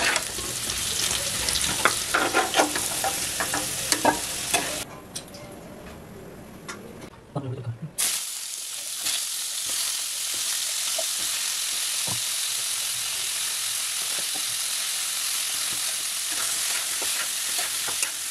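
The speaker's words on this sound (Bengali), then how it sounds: "হলুদ দিয়ে ভেজে তুলে নিচ্ছি" Potol pieces seasoned with salt and turmeric fry in oil, giving a dense hissing sizzle with clinks of stirring, a brief quieter gap in the middle, then a steady loud fry to the end.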